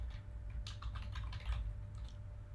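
Code being typed on a computer keyboard: a quick run of close, crisp key clicks in short bursts over a steady low hum, with no talking.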